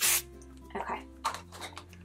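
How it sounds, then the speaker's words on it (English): A single short, bright hiss of spray hits a dish towel inside a small cardboard box. Soft rubbing and handling noises follow quietly. "so I'm just going to spray right here"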